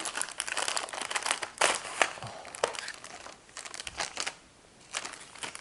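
Crinkly cellophane packaging from a motorcycle helmet headset being unwrapped close by, with loud, continuous crackling and rustling that swells and fades in bursts, and no talking over it.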